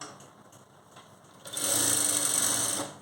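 A sewing machine stitches the cross belt of a designer blouse, running quietly at first, then surging into a loud, steady whir for about a second and a half before easing off.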